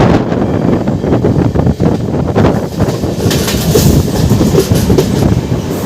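The Ernakulam–Howrah Express rolling past, a loud sustained rumble with rhythmic wheel clatter and wind buffeting the microphone.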